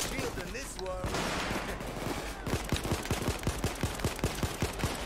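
Rapid automatic gunfire in the video game PayDay 2: a fast, regular string of sharp shots rattles out, growing punchier over a dense, noisy background of action.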